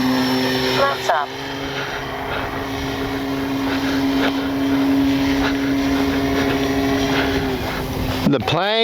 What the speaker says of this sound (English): The plane has got some power.